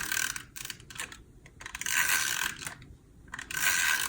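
A snail adhesive tape runner rasps across a card layer in repeated ratcheting strokes, close and crisp, with short pauses between the bursts.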